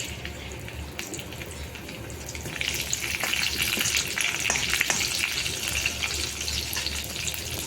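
Mustard seeds and curry leaves sizzle in hot oil for a Maharashtrian thali. A steady close crackle swells louder partway through, with a few sharp pops and faint scraping and no voices.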